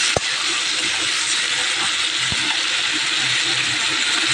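Water boils over from a pot of rice onto the stove with a steady, hissing spill. A couple of sharp clicks break through the wash.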